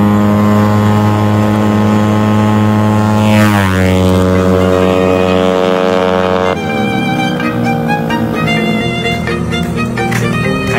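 A Yamaha Nmax 195cc scooter engine revs on a test drive. A steady, loud motor drone rises sharply in pitch, then settles into a busy, rough running note. No one speaks.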